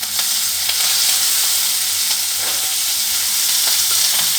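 Ground onion paste sautés in oil in a pan, a loud, continuous sizzle with occasional scraping stirs and soft ticks running throughout.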